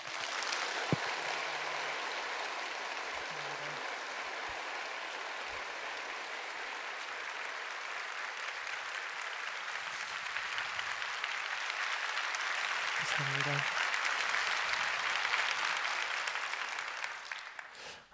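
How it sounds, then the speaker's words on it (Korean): A church congregation at a Sunday worship service applauds warmly and continuously for a long stretch, a broad, even wash of clapping from many hands that swells slightly near the end before tapering off. "격려의 마음과 또 감사의 마음을 담아서 크게 박수해 주시기"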